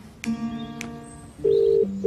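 A mobile phone being dialed for a call: a few short keypad tones, then a louder ringback-style tone pattern, alone with no voices.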